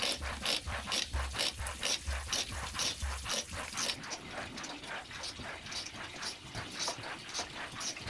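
A lever-operated bamboo piston water pump works in an underground cave dwelling, with a steady rhythmic clack and creak about twice a second and splashy water noise continuing after the strokes slow.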